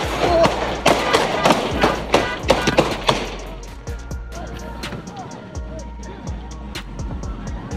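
Gunshots ring out at a rapper during a live stream, a rapid burst of sharp bangs at first, then sparser cracks that keep popping over background noise.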